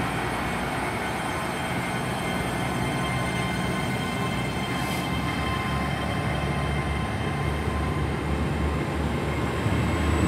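Train pulling out of Bridgend station bound for Swansea: a continuous loud rumble and rail roar holds steady throughout with no talk.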